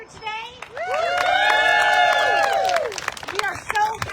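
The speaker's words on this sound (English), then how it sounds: "big claps for our speakers here today" Applause and cheering for speakers at a Care Not Cuts rally, clapping and raised voices swelling into a sustained crowd roar, then tapering to scattered claps and shouts.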